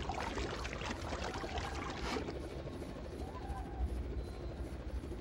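A helicopter's steady, whooshing rotor drone continues evenly throughout, fairly faint and rough-textured.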